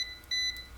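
A thin electronic beep from a multimeter on continuity test, checking a car fuse, sounds briefly, close and clear, a steady high tone lasting about a quarter second amid faint background hum.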